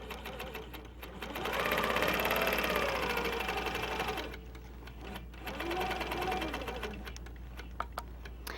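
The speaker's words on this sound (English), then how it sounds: "then stitch across on the line" A home sewing machine stitches along a scallop quilting ruler in fabric, running steadily and fairly loud in two bursts with a short slower pause between them, no talk over it.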